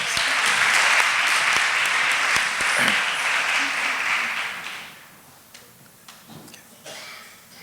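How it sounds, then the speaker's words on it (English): An indoor audience at a memorial lecture gives a round of sustained applause, dense and loud for several seconds before thinning out into scattered claps and fading. "Can we give them a round of applause?"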